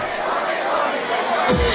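Large football crowd singing and chanting together in the rain, a loud, dense wash of voices that swells toward the end.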